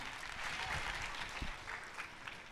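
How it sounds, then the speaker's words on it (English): Audience clapping at a sales-master promotion ceremony for a network marketing company in Atlanta, a steady, moderately faint patter of many hands lasting a few seconds with no talk over it. "You can give him a clap."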